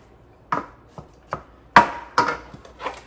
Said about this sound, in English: So I'll break up the meat a little bit